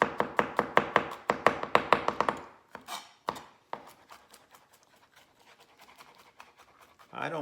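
Garlic being chopped with a knife on a cutting board for pasta: a quick run of sharp, close taps at the start, then scattered lighter taps, scraping and rubbing.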